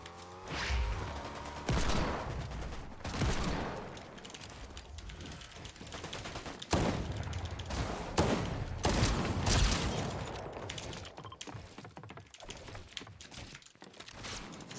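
Desert Eagle pistol shots in the Fortnite video game, mixed with other dense in-game gunfire, booms and mechanical effects. The shots are a busy, continuous barrage.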